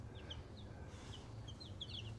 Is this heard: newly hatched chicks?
yes